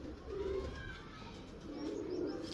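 A round-feathered pigeon coos in two low, throaty bursts close by. A faint murmur of background noise sits beneath the calls.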